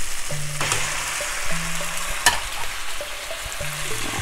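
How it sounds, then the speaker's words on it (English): Pasta sizzles steadily in a hot pan of Jamaican corned beef, a loud, continuous fry with scraping stirs and a few utensil clinks close by. "now for another fun part we're going to add our pasta"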